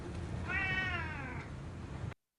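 A single drawn-out cat meow from a scene in the film Constantine rises and slowly falls over about a second, clear and fairly close against a low background murmur.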